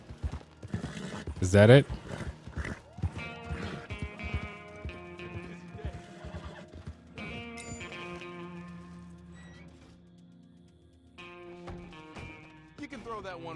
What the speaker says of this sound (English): My horse is about to die.